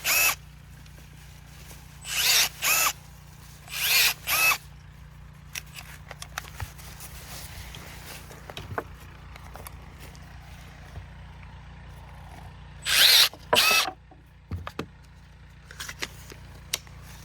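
Milwaukee M12 cordless pruner cutting branches of bushes, up to about three-quarters of an inch thick, in short loud motorized snips: a pair near 2–4 seconds and another burst near 13 seconds, with quiet outdoor background between.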